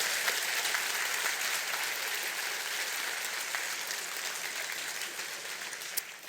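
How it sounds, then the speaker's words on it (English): A small audience gives a round of applause at a talk, a soft, fairly distant patter of clapping that holds steady and tapers slightly toward the end. "Give her a round of applause."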